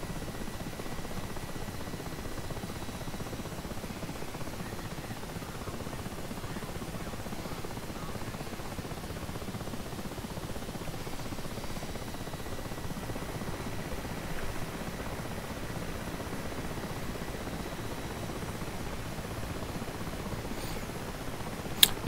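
Steady helicopter rotor and turbine drone from a helo flying over the Persian Gulf map in DCS World, a continuous even wash of broadband noise at moderate level with no talk.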